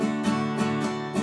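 Full strums of an acoustic guitar chord in a song lesson, four even strokes ringing out close and loud with no voice over them.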